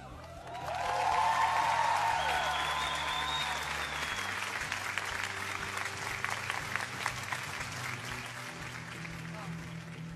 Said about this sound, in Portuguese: quem gostou da música, por favor, bata palmas